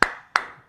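Two sharp, separate claps about a third of a second apart, close and fairly loud, meant as an audience clapping for Eagles of Death Metal's Jesse Hughes, with no talk.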